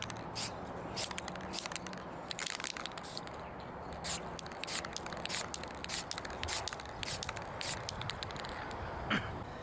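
Clear coat sprayed onto a car body rust repair in short, repeated hissing bursts, faint and close, with light handling noises between passes.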